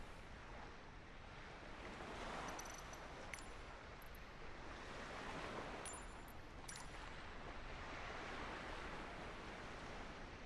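Waves and rushing water after an Aerosoft A330 airliner ditches in the sea in a flight simulator, a steady broad wash of surf with wind noise running throughout, with a few faint high clicks.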